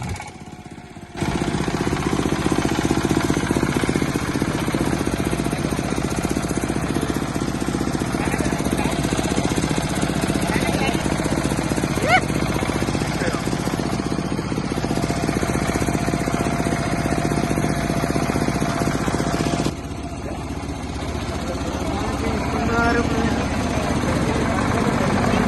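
A generator runs at a village Ganesh festival in Telangana, giving a steady, loud mechanical engine drone that starts after a brief moment and holds almost unchanged for the whole stretch.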